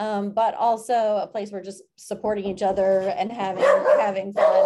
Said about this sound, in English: Sorry about my dogs there.